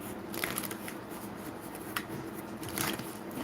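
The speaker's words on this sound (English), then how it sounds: "All right, so let's get some shuffles." Tarot cards are shuffled in quick riffling bursts, close and crisp, with brief pauses between shuffles.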